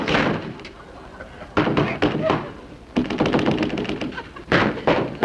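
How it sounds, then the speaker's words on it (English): Knocking on a door in a vintage sitcom, several clusters of sharp, close raps repeating through the clip, mixed with studio noise and no clear talk over them. "Oh, you don't have to knock"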